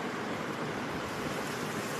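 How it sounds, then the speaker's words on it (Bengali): Spices frying in hot oil with turmeric, salt and split green chillies for a vegetarian soybean dish, making a steady, dense broadband sizzle that stays even and close without pause. "মশলাটা একটু ভালো করে ভেজে নেব।"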